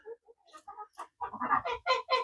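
Several chickens cluck close by, starting with scattered soft calls and building into louder, rapid clucks near the end.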